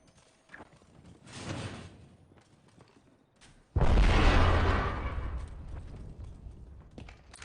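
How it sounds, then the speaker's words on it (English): Grenade blasts in the battle royale shooter Apex Legends: a softer burst early on, then a loud, heavy explosion with a long rumbling tail that fills the second half. "We are starting to see grenades get thrown."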